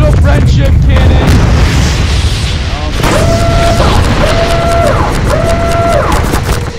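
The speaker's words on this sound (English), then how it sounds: "I got this. Orbital friendship cannon!" A huge booming blast from an orbital friendship cannon in Garry's Mod, a loud sustained rumbling explosion followed by repeated descending synthetic tones, with people talking over it.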